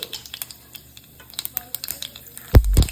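Mustard seeds crackle and pop in hot oil in quick scattered bursts, ending with a louder thump and a rush of sizzling.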